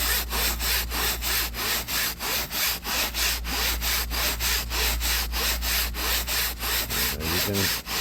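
Cloth car seat being scrubbed with a brush, a fast steady back-and-forth rasping stroke repeated continuously, loud and close.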